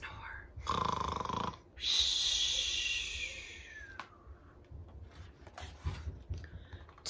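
Several people do a group imitation of snoring, with rough, breathy snorts in bursts spread over several seconds, followed by quieter breathing and rustling.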